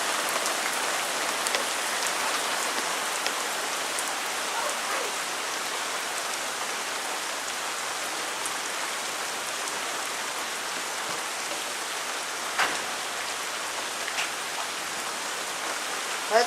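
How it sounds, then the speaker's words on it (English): Heavy thunderstorm rain in Tacoma, Washington pours steadily and loudly, a dense continuous hiss of drops on surfaces with no voices. "Heavy rain."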